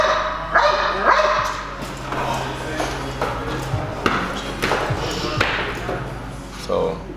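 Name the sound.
protection dog barking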